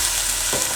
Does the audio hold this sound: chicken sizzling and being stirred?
yes